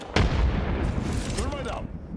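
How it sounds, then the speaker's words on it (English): A frag grenade explodes in the battle royale game Apex Legends, a loud sharp boom with a rumbling tail, heard close and alone. "Throwing a nade. Frag out."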